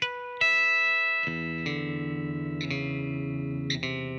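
Electric guitar through a wah pedal playing a song's part, sustained notes struck a few times with a sweeping, filtered tone and light reverb, moderately quiet and without talk.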